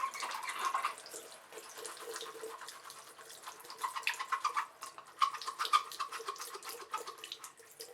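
Makeup brush rinsed under a running tap after sudsing with a Sigma brush cleaning glove, a faint, close trickle and splatter of water with small irregular splashes.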